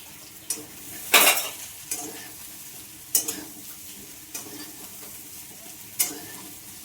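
Colocasia leaf rolls (alu vadi) shallow-fry in a little oil with a steady low sizzle. Periodic sharp scrapes and taps of a spatula turning them sound every second or so, close and without voices.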